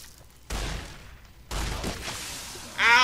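A shotgun firing in Fallout New Vegas lets out two heavy, booming blasts about a second apart, each followed by a noisy rumbling tail, with a brief chirping sound at the end.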